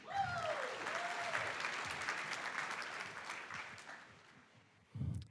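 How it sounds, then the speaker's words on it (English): Applause from the audience at the Duke startup showcase, a sustained wash of clapping at moderate distance lasting several seconds, a whistle-like whoop early on, fading before a voice starts at the end. "So round of applause for them, please."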